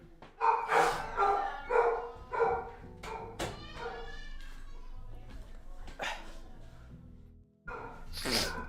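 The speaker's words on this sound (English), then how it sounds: "their dog's going crazy" Dogs bark repeatedly nearby in a home, sharp uneven bursts with yips among them, while someone talks over and between the barks.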